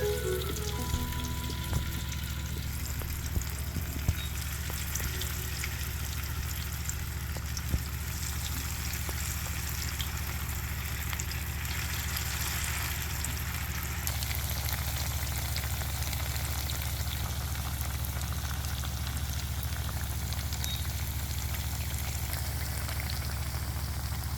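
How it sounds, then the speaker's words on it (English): Bammy, a cassava flatbread, frying in a pan of oil with a steady, even crackling sizzle that runs unbroken throughout, alone with no voices. "I'm going to start with the bammy here to fry."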